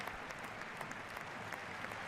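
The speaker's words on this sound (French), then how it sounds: "permettre les soins et évacuer le joueur sous les applaudissements" Faint, distant applause from a rugby stadium crowd at a Top 14 match between Racing 92 and Clermont, a steady wash of clapping while an injured player is treated and carried off.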